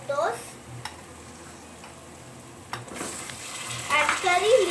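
Fried onions with tomatoes cook in a pan, a soft steady sizzle with a couple of utensil clinks and stirring scrapes, a voice speaking briefly at the start and end.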